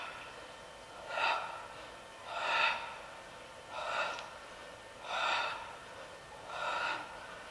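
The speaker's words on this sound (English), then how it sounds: "you can hear me breathing, right?" Heavy open-mouthed breathing during an abdominal trunk-flexion exercise, five loud breathy exhalations spaced evenly about every 1.3 seconds, close up with no talking.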